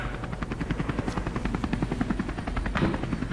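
Helicopter flying, used to airlift an injured MotoGP rider to hospital; a steady, loud rotor chop pulses rapidly and evenly throughout, with a continuous engine drone underneath.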